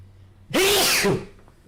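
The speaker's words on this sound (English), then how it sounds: "I know I gotta sneeze." One loud, close sneeze bursts out with a sharp voiced cry, followed by quiet room noise.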